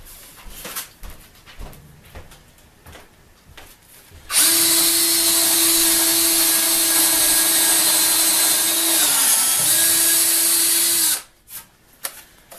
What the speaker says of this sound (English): I set the drill bit inside the chuck so that I can use the end of the chuck as a marking gauge.